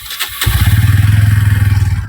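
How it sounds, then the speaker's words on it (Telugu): A BS6 motorcycle engine cranks briefly with a couple of clicks, then catches and settles into a loud, close, evenly pulsing idle on a cold day. "ఓకే, ఇలా బైక్ స్టార్ట్ చేస్తాం కదా మనం."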